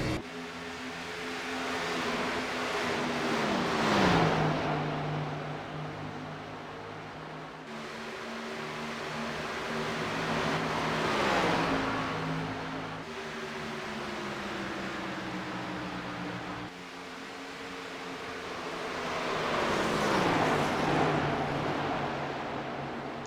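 Race cars circle the Texas oval in the iRacing sim, engines droning in long rising and falling passes, each swelling louder then fading, with no talk over the steady roar.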